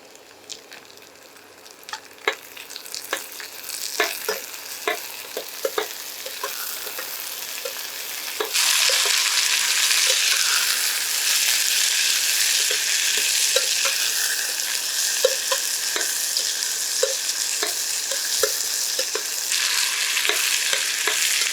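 Vegetables and green peas frying in oil, with a soft sizzle and rhythmic spoon taps at first, then a much louder, steady sizzling hiss that carries on to the end; no talk.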